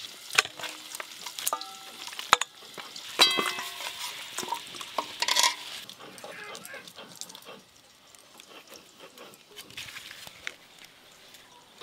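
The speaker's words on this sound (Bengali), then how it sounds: "এদিকে মাংসের জন্য আলু ভাজা হচ্ছে, আলু ভাজা হতে থাক।" Potatoes frying in a pan for a meat curry, with a hissing sizzle and irregular scraping and clinking stirs that are busiest early and then settle to a quieter fry.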